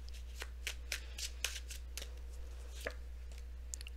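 Tarot cards riffle and snap in short, crisp bursts, shuffled and drawn up close at a steady, uneven rhythm under a low constant hum.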